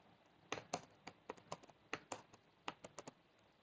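Quiet, close keystrokes on a computer keyboard as Python code is typed, about fifteen crisp clicks in irregular bursts with short pauses between.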